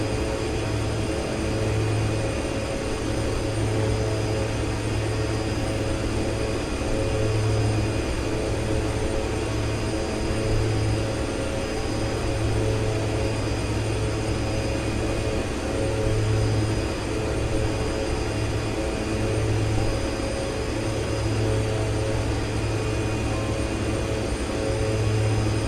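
Steady jet engine drone from an airliner in the X-Plane 11 flight simulator on a flight from Grand Bahama to North Perry Airport, Florida, a loud unbroken hum with a faint pulsing low tone throughout.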